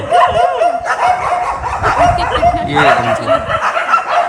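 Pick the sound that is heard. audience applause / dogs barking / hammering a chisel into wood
dogs barking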